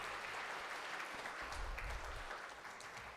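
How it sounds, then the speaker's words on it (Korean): Church congregation applauding the choir at a New Year's Day Sunday service, steady dense clapping from many hands filling the room, fairly soft and distant. "힘차게 격려와 감사의 박수 드리도록 하십니다."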